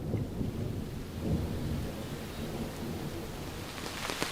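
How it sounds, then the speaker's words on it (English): Low rolling thunder rumbles steadily through a rainstorm on a remote lake island, with rain pattering throughout and a slight swell near the middle before it stays heavy to the end. "Just thunder."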